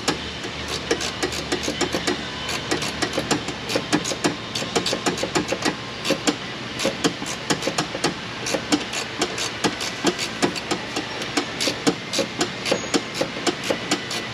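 A ratchet works on a plastic-housed Pentastar 3.6 engine, giving a steady run of close, sharp clicks across the whole stretch over a faint low hum.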